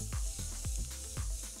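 Beef frying in a pan is stirred with a spoon, giving a steady loud sizzle with soft scraping strokes about every quarter second, and no voices.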